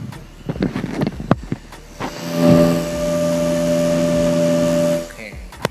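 After a few clicks and handling knocks, a small electric motorcycle cooling fan on a Honda Supra whirs up into a steady hum like a computer CPU fan for several seconds, then cuts off.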